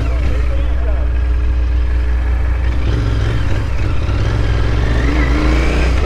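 A Royal Enfield Interceptor 650 motorcycle engine runs and revs steadily, loud and close, with a continuous low rumble throughout while people talk over it.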